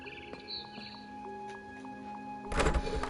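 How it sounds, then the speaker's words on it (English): Birds chirp faintly outside a window in the video game What Remains of Edith Finch, soft high calls over a low ambient hum, ending with a louder thump. "Then I heard chirping outside my window."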